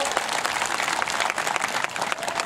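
A crowd at a Turkish highland festival claps loudly and steadily for a child who donated holiday pocket money, with dense, even applause throughout.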